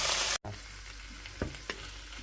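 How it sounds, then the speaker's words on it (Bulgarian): Chopped salami frying with anchovies in olive oil in a pan for Italian pasta, a loud continuous sizzle broken by a brief drop-out, then a couple of light scrapes over the hiss. "След това си добавям нарязаното саламче."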